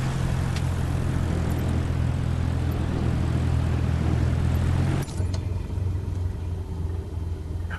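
A Cessna 172 engine in Microsoft Flight Simulator drones as a steady low propeller hum with a strong rumbling tone, then shifts abruptly to a quieter, thinner engine sound partway through.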